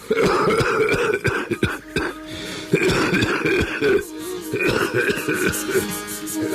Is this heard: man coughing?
yes